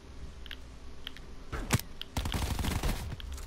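Gunfire in a shooter video game comes as a sudden burst of rapid shots midway, then a sustained stretch of dense firing, over faint background game sound with small repeating chimes.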